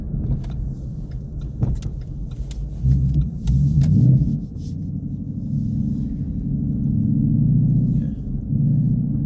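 A 2016 Ford Mustang GT engine drones steadily at low pitch while driving on Bridgestone Blizzak WS80 tires, rising briefly as it revs, with faint rattles and clicks over the rumble.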